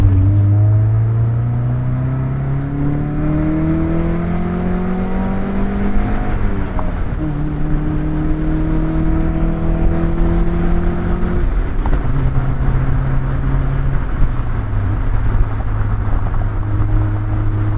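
A high-mileage Mazda Miata's engine revs and accelerates hard onto a highway through rising gear shifts, a loud steady whine climbing in pitch, then dropping after each change, with no talking.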